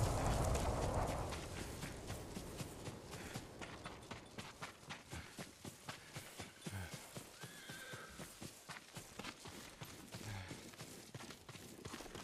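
Horse hooves clip-clop in a steady, rhythmic trot across the ground in the video game Ghost of Tsushima, with a whinny near the start and no talking.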